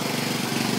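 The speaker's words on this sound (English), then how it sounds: "ride the lawnmower shopping cart" A small lawnmower engine drives a motorized shopping cart, giving a close, continuous rattling putter with fast, even pulses.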